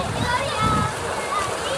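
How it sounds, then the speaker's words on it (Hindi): Water gushes steadily from a solar-powered tube well in a village in the morning, a continuous splashing rush heard close up beneath a man's speech. "ये जनाब पानी आ गया"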